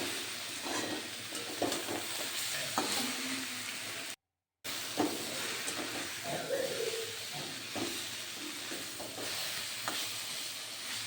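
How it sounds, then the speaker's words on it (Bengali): Mustard greens and eggplant stirred in a frying pan, a steady sizzle and hiss with scraping stir strokes, briefly cut by a gap of silence midway. "আলতোভাবে নেড়ে বন্ধুরা আর বেশিক্ষণ নাড়ার প্রয়োজন নেই কারণ শাকটাও ভাজা ভাজা হয়ে গেছে"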